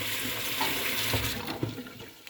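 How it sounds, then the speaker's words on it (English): Tap water runs steadily over scraped tomato seeds in a sink, a close, continuous splashing stream that thins out near the end with a few small drips and clatters. "put them in a bit of water"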